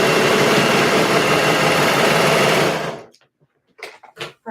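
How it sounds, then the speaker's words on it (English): Serger sewing machine stitching down dress pleats, a loud, close, steady mechanical whir for about three seconds that stops abruptly, followed by a few soft clicks and handling noises. "We just serged down all of these pleats so they're not all floppy and in the way."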